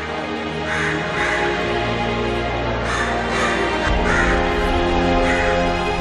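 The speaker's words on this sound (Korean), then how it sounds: "까마귀가 제단에 올린 음식을 노리고 있네요." Crows caw at a Hindu temple altar in Sri Lanka, near a Tamil shrine to the war god Skanda. Several harsh caws repeat against a steady, noisy background hum with no speech.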